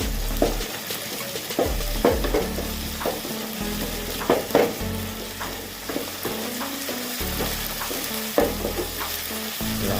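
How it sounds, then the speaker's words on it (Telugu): Chicken liver frying in hot oil with ginger garlic paste, onions and coriander leaves sizzles steadily while a spoon stirs and scrapes the pan in repeated bursts, close and constant, with no talk. "కాకపోతే కొంచెం ఫస్ట్ ఆయిల్లో ఫ్రై అవ్వడానికి కొంచెం కొత్తిమీర వేసుకొని, కొంచెం అల్లం వెల్లుల్లి పేస్ట్ వేసుకొని కలుపుతున్నామండి."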